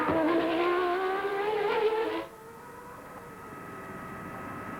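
A Formula One race car engine screams during practice at the 1989 Adelaide Grand Prix, a high, rising whine that drops off abruptly midway and leaves a fainter, thinner engine note behind.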